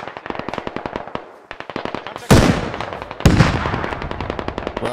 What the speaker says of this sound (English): Rocket a little short there.